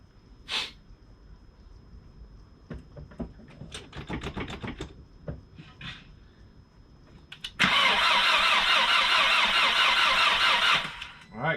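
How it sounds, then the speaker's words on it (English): A Volkswagen MK4 engine cranks and catches in one loud, steady burst of about three seconds, close by. It follows a stretch of people talking and scattered clicks, then cuts off sharply. "we'll plug that back in and fire the motor up"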